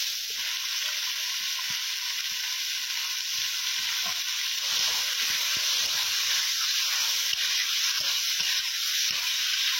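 An onion, tomato and spice paste fries with potatoes in a village kitchen, giving a steady close sizzle and hiss with faint stirring scrapes, continuous and without talk.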